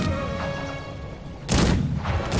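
Deep booming blasts from cannons in Cossacks 3, one rumbling shot followed by a louder, sharper volley, heavy and close.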